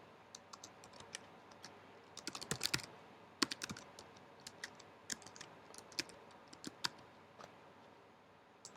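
Typing on a computer keyboard, with soft irregular key clicks in short bursts, a denser flurry early on and then sparser taps, close and fairly quiet with no speech.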